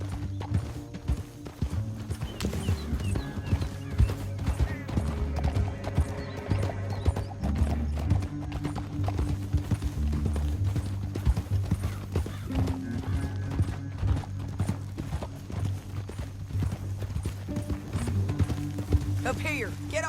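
Horses gallop in Red Dead Redemption 2 with steady, rhythmic hoof clip-clops under a constant game soundscape, loud and close throughout, with occasional neighs and characters talking.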